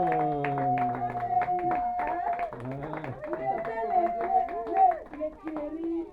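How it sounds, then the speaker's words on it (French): An audience at a live French-language comedy show applauds, with rhythmic clapping running under voices for about six seconds. "Applaudissez pour vous-même."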